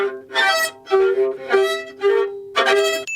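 A violin played to imitate the Wii Music violinist gives five or so short, separate bowed notes in uneven rhythm, each scratchy and rough-toned, close and clear with brief gaps between.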